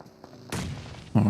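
Grenade blasts in PUBG Mobile during a competitive match: a faint thump, then a loud booming burst that rumbles and fades, followed by a second heavy blast at the end.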